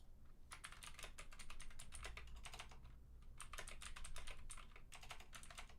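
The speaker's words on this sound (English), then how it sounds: "How crazy does my typing look" Rapid bursts of typing on a computer keyboard, close and fairly quiet, with dense clusters of keystrokes separated by a brief pause midway.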